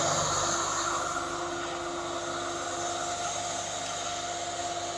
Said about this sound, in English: So I'm going to tilt this deck up now 10 degrees.